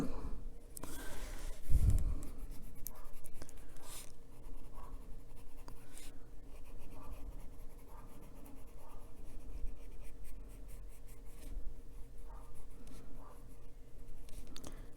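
Colored pencil pressed hard across paper to burnish layered colors, canary yellow over the rest, in an adult coloring book bird house picture; steady, close scratchy strokes run continuously for the whole stretch.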